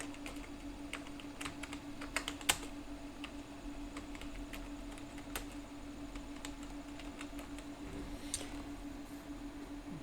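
Typing on a computer keyboard, quick irregular clicks of keystrokes tapping out names at close range over a low steady hum, with no talking.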